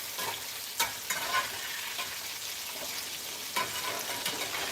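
Fish frying in hot grease in a home kitchen, giving a steady broadband sizzle with brief louder crackles and pops scattered through it, close by and with no voices.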